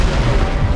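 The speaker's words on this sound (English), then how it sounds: "All the explosions look so good." A deep, booming explosion in the Halo Infinite video game, a short burst of dense low rumble with no talking.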